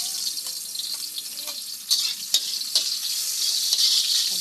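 Onions fry in a pan for a mung bean dish, a bright steady sizzle with several clattering stirs and scrapes of a spoon against the pan, close and fairly loud, no voices.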